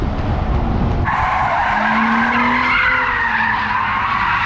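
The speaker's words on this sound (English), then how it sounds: "I even saw some people doing donuts." A car doing donuts in a mall parking lot, its tires skidding in a loud, sustained squeal close by, with the engine droning underneath and rising partway through.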